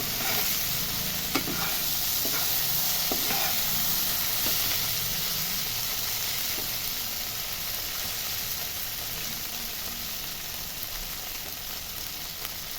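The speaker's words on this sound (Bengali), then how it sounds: "দেখুন কি সুন্দর লাল লাল করে ভাজা হয়ে যাচ্ছে" Steady, loud sizzling of tomatoes frying in plenty of hot oil, with occasional soft clicks from stirring.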